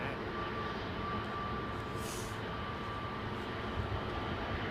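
A Boeing 757-200 at London Heathrow Airport produces a steady, fairly quiet jet engine roar heard from a distance, continuous and even throughout.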